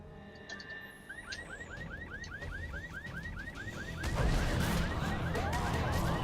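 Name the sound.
car alarm triggered by jumping on cars, The Secret World video game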